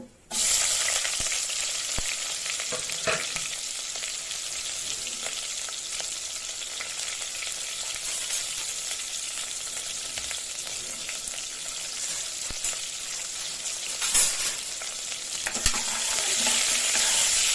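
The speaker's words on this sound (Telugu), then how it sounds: "దీంట్లోనే మనం ఇప్పుడు ఉల్లిపాయ వేసేసుకుని ఫ్రై చేసుకుందాం" Onion fries in a pot with black cardamom for mutton biryani, giving a continuous sizzling hiss with occasional stirring scrapes and clinks, and no talk.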